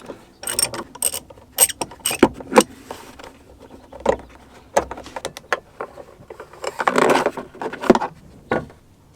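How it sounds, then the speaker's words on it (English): A 10mm socket on a ratchet backs out the driver's side tail light bolt on a Jeep JL, giving bursts of close, crisp ratcheting clicks separated by pauses and small metallic handling knocks. "So using a 10mm socket, we have to remove the bolt in here"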